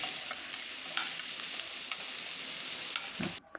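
Finely chopped onions sauté with mustard seeds and urad dal in oil in a kadai, a continuous close sizzle with stirring scrapes that stops abruptly near the end, leaving no speech.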